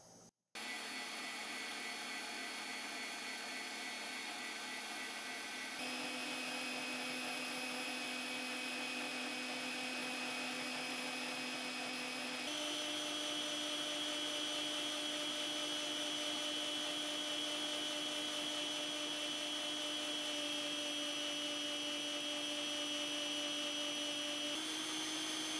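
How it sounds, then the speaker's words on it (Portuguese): An electric mixer whips heavy cream for ice cream, its steady whirring motor hum close and continuous, stepping up in pitch twice as the speed rises from minimum. "Eu vou começar a bater em velocidade mínima e vou aumentando."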